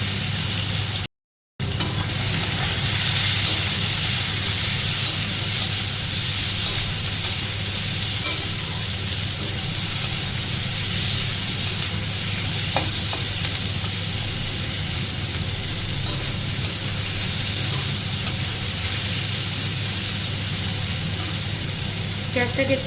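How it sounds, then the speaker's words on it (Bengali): Onions frying in oil in a pan with whole spices for chicken kosa, a loud, dense and continuous sizzle that stays even for over twenty seconds after a brief gap near the start. "পেঁয়াজটা একটু ভাজা হবে, তারপরে আমি এর মধ্যে অন্য জিনিস দেবো।"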